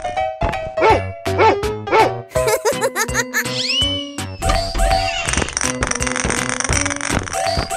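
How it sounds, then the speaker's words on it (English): Cartoon dog in a children's wild-animal cartoon giving short, repeated barks over bouncy background music, with a giggling, playful tone. "Dog."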